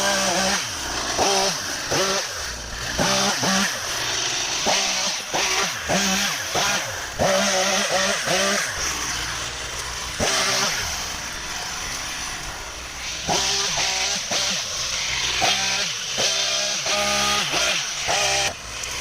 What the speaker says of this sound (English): Got the chainsaw, Uncle Mark?